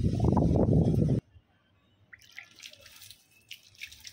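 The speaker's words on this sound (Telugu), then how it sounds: "సో ఇలా షవర్ ప్రాసెస్ చేయండి." A water shower sprayed onto a hibiscus plant to wash off mealybugs. A loud, low burst at the start gives way to faint, uneven spattering and dripping on the leaves.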